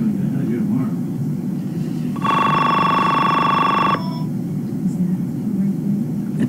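A telephone bell rings in one continuous burst of about two seconds, loud over a steady low rumble of background noise, followed by quiet.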